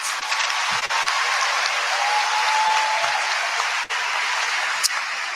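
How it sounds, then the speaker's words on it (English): Sustained applause from the audience at an induction ceremony for newly qualified medical and dental practitioners, many hands clapping steadily in a hall with a few brief thumps, then tapering slightly. "I want us to clap our hands again for our parents"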